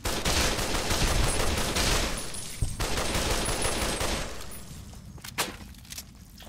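A worn, badly damaged gun in Fallout New Vegas fires in a dense burst of rapid shots over a gritty background. Later come a few scattered single cracks as the noise thins out.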